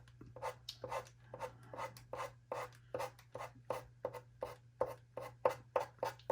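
Pan pastels brushed and smoothed across a painting surface, a steady rhythm of close, soft scratchy rubbing strokes, about two per second, over a low constant hum.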